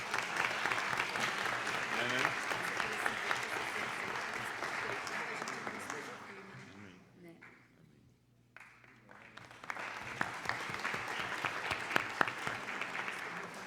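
Audience applause at a formal solemn session marking the 70th anniversary of a law faculty, loud sustained clapping that fades to a brief lull, then swells again, with faint voices underneath.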